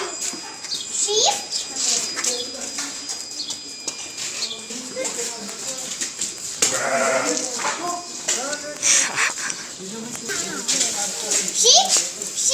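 Sheep for sale before Eid al-Adha bleat repeatedly close by, mixed with children's voices chattering and calling out over them.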